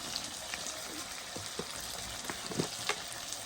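Turmeric and cumin powder with salt frying in oil in a pan, a soft continuous sizzle broken by scattered clicks of a spoon stirring, fairly quiet.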